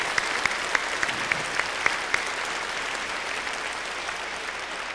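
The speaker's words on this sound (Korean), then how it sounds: "우리 다 같이 박수로 하나님께 영광을 드리겠습니다." A church congregation claps together in worship at a stained-glass dedication service, a dense, even wash of applause from a large room with a few sharper individual claps early on, steady and sustained throughout.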